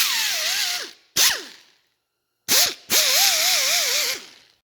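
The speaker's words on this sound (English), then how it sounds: "This thing comes with a few different attachments, but this is a pneumatic gasket scraper." A pneumatic gasket scraper from Harbor Freight, used for gasket surfaces on a turbo 6.0 engine, whines loudly in several bursts, its pitch wavering and dropping as it spins up and cuts off between short pauses.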